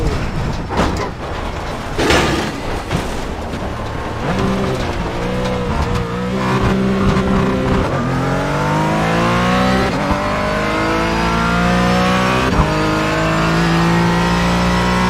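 Porsche Cayman GT4 in a sim racing game at the Nurburgring, engine screaming up and down through gear changes, loud and continuous with rising revs and brief tire noise, a damaged car.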